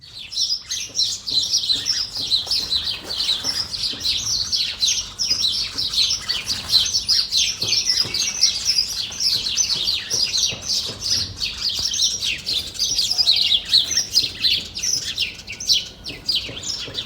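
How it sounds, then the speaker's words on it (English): Dense, frenetic chirping of many small birds in trees beside a hotel swimming pool, a continuous busy chorus of high tweets and squawks, fairly close and steady throughout with no talking. "between the pool were these trees, and these birds were just frenetic"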